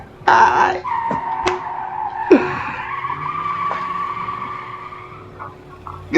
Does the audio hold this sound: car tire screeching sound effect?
yes